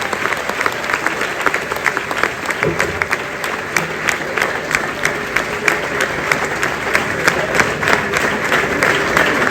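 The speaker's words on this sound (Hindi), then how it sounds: "तालियां रुकनी नहीं चाहिए" Sustained, loud applause from an audience at a Datta Jayanti gathering at the Shri Manik Prabhu Darbar in Karnataka, steady dense clapping throughout with no voices.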